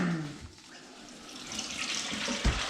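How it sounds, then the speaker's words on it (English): Hot water runs steadily from a kitchen sink tap, a continuous close hiss and splash with small shifts in the flow, no talking over it. "We turn the hot water on, Jake."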